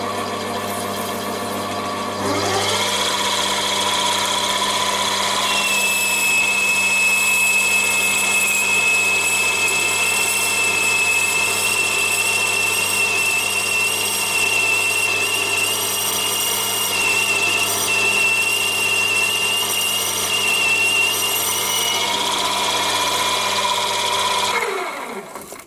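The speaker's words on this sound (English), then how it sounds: "I'm going to take a skim cut at the same setting" A mini lathe takes a skim cut with a boring bar in a 50x50x38mm holder: a steady motor drone with a thin, high cutting whine for about twenty seconds, spinning up at the start and winding down at the end.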